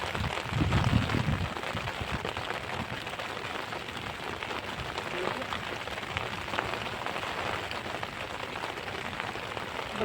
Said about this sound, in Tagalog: Uy, malakas ang ulan boy.